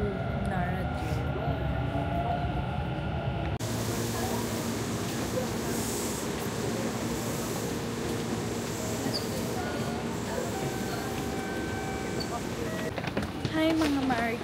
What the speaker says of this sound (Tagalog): Dito na kami sa loob ng train.